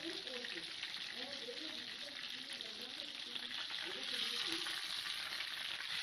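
Chicken frying in oil gives a steady crackling sizzle, with a soft scrape and stir as the pieces are turned over partway through, close and moderately loud with no talking.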